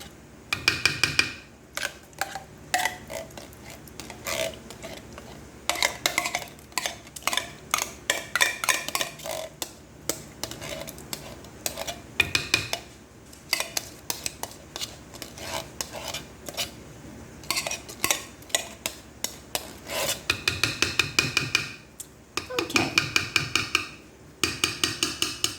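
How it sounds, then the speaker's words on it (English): Thick pure pumpkin is emptied from a 15-ounce can into a bowl, heard as repeated close metallic scraping and tapping of a spoon against can and bowl in irregular bursts with pauses, no talk. "I'm going to go ahead and empty this 15-ounce can of pure pumpkin"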